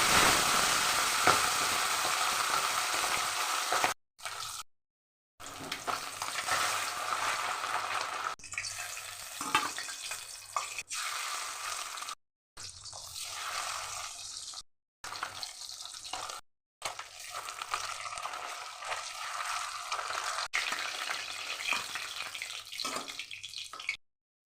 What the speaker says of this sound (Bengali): সর্ষের তেল দিয়ে দিলাম মাছ ভাজার জন্যে